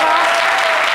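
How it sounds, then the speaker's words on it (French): Studio audience applauding on a French midday talk show, a steady dense wash of clapping that fills the whole second at full loudness. "Est-ce qu'on peut l'applaudir pour ça?"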